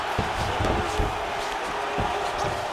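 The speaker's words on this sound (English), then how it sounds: "crowd absolutely loving it as the fighters, however compromised, make their way back to the feet" A large arena crowd roars and cheers during a simulated UFC 5 bout, a dense, sustained wall of noise with a few thumping impacts beneath it.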